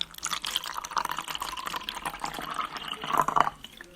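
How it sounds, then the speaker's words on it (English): Coffee pours into a cup at home, a steady trickling, splashing stream that runs throughout and grows slightly louder toward the end as the cup fills. "Pouring myself a cup of coffee."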